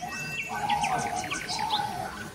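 A songbird sings in a forest, a series of bright, quick whistled notes and chirps at moderate distance over faint insect hum.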